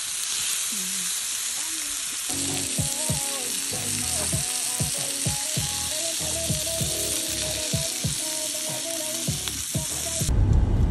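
Food frying in a pan at a lakeside campsite, a continuous loud sizzle with clattering stirring and utensil scrapes running through it, close by.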